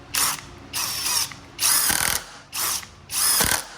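SKIL PWRCore 20 impact driver on its high setting driving 1.25-inch screws into wood, with five loud, close bursts of rapid hammering clatter separated by short pauses.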